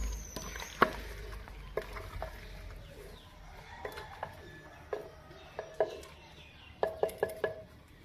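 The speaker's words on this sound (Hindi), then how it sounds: "अब हमने इसको अच्छे से मिक्स करके ना इसको अच्छे से भून लेना है" Turnips and meat stirred and frying in a pot over a village cooking fire, with intermittent scraping clinks of a spoon against metal over a soft, steady background.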